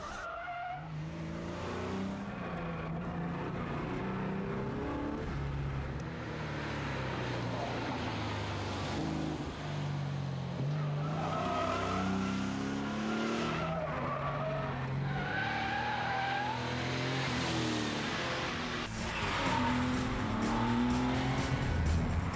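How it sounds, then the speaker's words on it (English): A Porsche-powered VW Karmann Ghia driven hard on a closed track, with sustained tire squeal and skidding over a rising and falling engine note. It sounds loud and close throughout and carries no speech. "Jochen prefers to explore the potential of his Karmann on a closed track."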